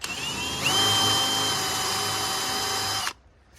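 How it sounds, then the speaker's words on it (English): Power drill fitted with a Forstner bit countersinking a wooden stair tread, a loud high whine that surges as the bit bites, holds steady for about two seconds, then cuts off abruptly. "all I'm doing is countersinking this"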